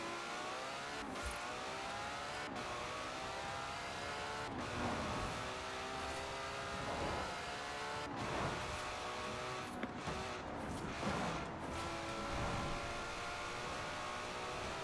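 A car tuned to one horsepower per kilogram accelerates hard in the racing game Forza Horizon 4, its engine revving up again and again with brief drops at gear shifts, continuous and prominent.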